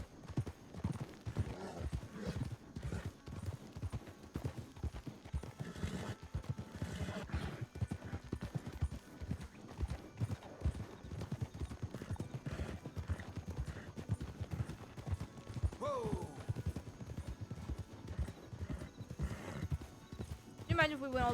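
Hooves of a captured wild Mustang mare clip-clop in a steady rhythm as she is ridden across open country in RedM, with a whinny breaking in, all under ongoing talk.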